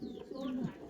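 A fancy pigeon cooing close by, a single low, throaty rolling coo with a soft falling tail, fairly quiet.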